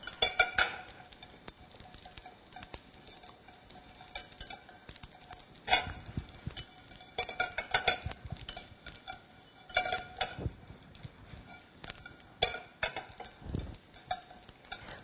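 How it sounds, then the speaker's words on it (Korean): Dried anchovies are dry-roasted in a pot, stirred constantly with a utensil, giving irregular dry rattling scrapes and clinks against the pot, close and fairly quiet, with brief louder bursts as the fish are tossed. "냄비 바닥에 멸치가 있는 채로 하시지 마시고 계속 왔다 갔다 하시면서 뜨거운 열이 골고루 달 수 있게 해주세요"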